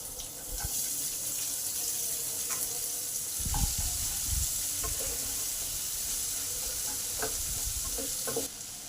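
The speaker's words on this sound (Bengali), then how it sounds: "এবার পেঁয়াজটাকে দিয়ে দিলাম" Sliced onion hits a hot pan of fried green chillies and spices, setting off a steady hissing sizzle with a few scraping stirs and knocks partway through, close and continuous, no talking.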